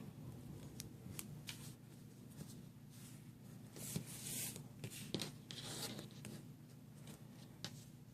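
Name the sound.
cutting a mini book cover, likely with scissors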